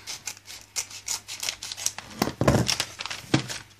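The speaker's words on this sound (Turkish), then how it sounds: "Hadi keselim." A homemade pair of scissors cutting into Barbie toy packaging, with crisp snips mixed with crinkling and tearing of the plastic and cardboard, close and fairly loud, no talking.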